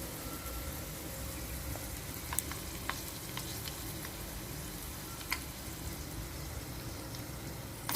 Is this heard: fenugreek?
yes